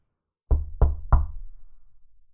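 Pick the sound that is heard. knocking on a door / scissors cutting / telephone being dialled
knocking on a door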